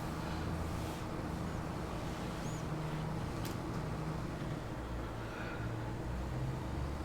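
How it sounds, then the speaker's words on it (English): A tractor in Farming Simulator 22 hauling a load uphill, a low, steady droning engine labouring continuously at moderate distance, fairly quiet with no speech. "You can hear the tractor working to haul this,"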